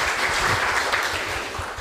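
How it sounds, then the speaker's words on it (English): Audience applause at an academic conference, a loud, dense and even roar of clapping that carries through the whole short stretch without any voices. "Please give him a warm applause for this announcement."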